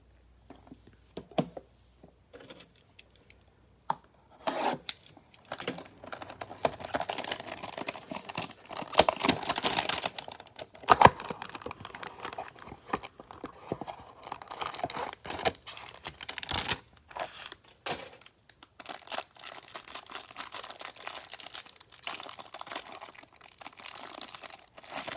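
Hanger boxes of Select football cards are torn and opened, with dense crinkling and crunching of wrappers and cardboard, close and continuous, with rapid tearing bursts and no talking.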